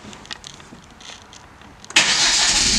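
A car engine cranks and fires abruptly near the end, jumping from a quiet interior hum into a loud, broadband running roar, heard close up from inside a Hyundai Genesis without any talk.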